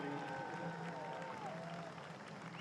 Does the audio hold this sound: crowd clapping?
yes